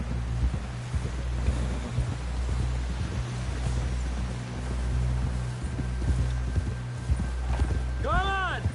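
Steady hoofbeats of a horse in Red Dead Redemption 2 trotting along in an even rhythm under a low engine-like drone and wind, with a short rising tonal call near the end.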